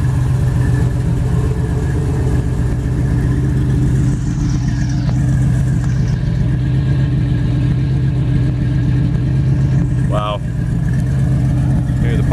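A 502 big block V8 in a 1956 Chevy 210 rumbles loudly and steadily close by, with a couple of brief revs, while people talk faintly underneath.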